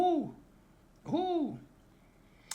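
Two owl hoots, each a short descending call, spaced about a second apart and fairly close, with a faint tap at the end and no other sounds.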